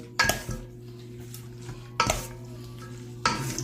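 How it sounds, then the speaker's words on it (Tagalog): Papaya atchara being mixed in a bowl, with three distinct clattering, scraping strokes of a utensil against the dish spaced over a steady low background hum. "Halo-halo natin para mag-absorb"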